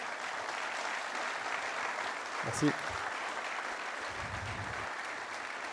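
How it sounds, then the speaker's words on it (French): Sustained applause from an audience at a company's 50th anniversary gathering, the crowd clapping for themselves; steady and fairly even, with a brief spoken word from one person partway through. "Vous pouvez vous applaudir d'ailleurs."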